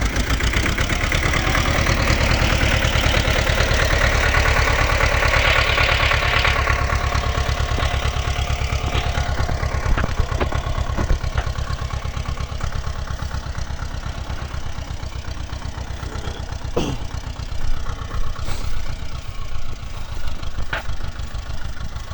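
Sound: T-25 tractor engine running while ploughing

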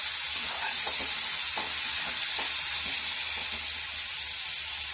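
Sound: stirring food in a pan, katori chaat recipe

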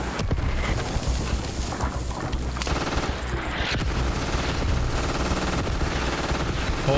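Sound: rapid-firing gun shooting in the video game Squad

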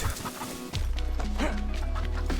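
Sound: chicken clucking in a video game

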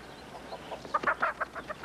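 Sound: chickens clucking in a film scene

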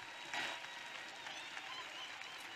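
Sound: audience clapping for Jesus at church service

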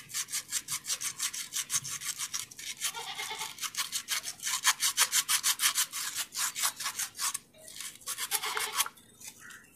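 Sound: sanding sewing machine part with sandpaper

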